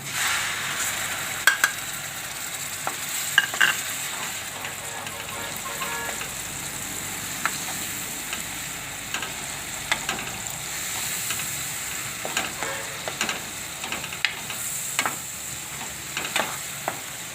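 Tomatoes frying in oil for a drumstick curry, a gentle constant sizzle and hiss with occasional clinks and scrapes of a stirring spoon, near and fairly soft, without speech.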